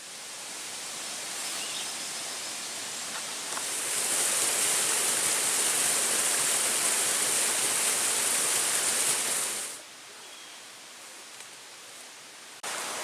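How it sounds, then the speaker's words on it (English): A small waterfall on the Manistee River trail roars as a steady broadband rush, loud and close, then drops to a softer, more distant hush near the end. "Slept good last night next to that little waterfall"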